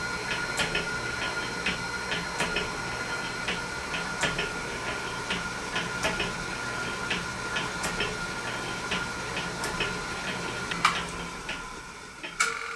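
A restored horizontal shaper machine running steadily, with regular metallic ticks and clicks repeating about every second over a constant mechanical whir, close and fairly loud, no talking.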